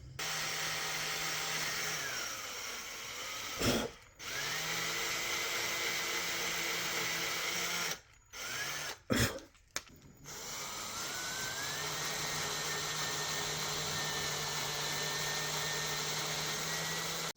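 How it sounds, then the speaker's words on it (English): Power drill boring tuner holes through a wooden guitar headstock made from free scrap wood, a steady loud whine running throughout, broken by a few brief pauses and jolts where the bit grabs. "Let's drill out the holes for the tuners and mount them."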